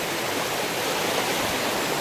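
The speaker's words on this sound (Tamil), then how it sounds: "அருவி கொட்டுறது அந்த சைடு இருக்கு" A hidden waterfall in the Megamalai hills of Theni pours in a dense, constant roar of falling water, close and loud, filling the whole stretch with no voices.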